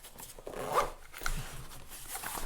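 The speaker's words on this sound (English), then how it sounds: "We'll zip it up." A Tomtoc tablet shoulder bag for an iPad Pro is zipped shut with a close, scratchy zipper rasp that is pulled in a few quick strokes.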